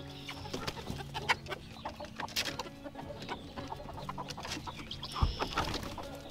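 Several chickens cluck and murmur continuously nearby, with overlapping calls and a louder squawk near the end.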